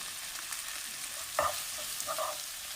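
Chilli, coriander and turmeric powders fry in a pan for a mango fish curry: a soft, even sizzle with one clear scrape of stirring midway and a couple of faint clinks.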